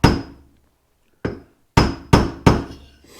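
Hammer taps on the door hinges of a 2010 Chevrolet Impala, adjusting the door gaps: one sharp metallic strike, a pause, then four more quick knocks in close succession, each ringing briefly, with no talk over them.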